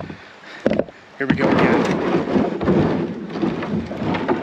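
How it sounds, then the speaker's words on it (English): Kayak hull scraping and grinding over rocks in the shallow Yellow Breeches Creek in Pennsylvania, a loud, rough, rumbling drag that starts after a brief spoken line and continues unbroken. "Hear those scrapes getting caught on the rocks below."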